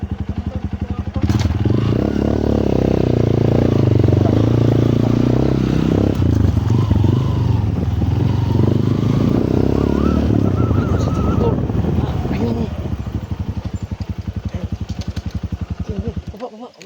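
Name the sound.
motorcycle engine running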